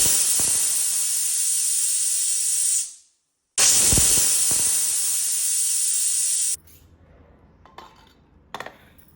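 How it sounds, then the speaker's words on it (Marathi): A pressure cooker on the stove lets off loud, sustained bursts of hissing steam whistle, cutting out briefly before a second long blast, then giving way to quiet kitchen clinks of metal utensils. "कुकरमध्ये 2 शिट्ट्या काढून मस्त मऊ करून घ्यायचे."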